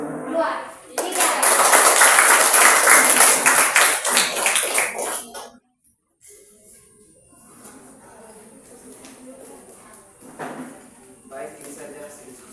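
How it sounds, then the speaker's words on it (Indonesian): Classroom applause for a student group during a school lesson, a loud burst of many hands clapping for several seconds, then fading into quieter chatter and talk from teacher and students. "Kita tepuk tangan lagi untuk kelompok 3"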